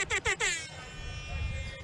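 A short burst of blaring air horn blasts, three quick toots followed by a sustained honk that cuts off, with low background noise after.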